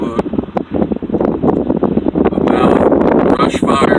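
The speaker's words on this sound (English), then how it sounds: "It's still windy, man" Gusty wind buffets the microphone in a steady rumbling roar, with rustling and a faint voice underneath.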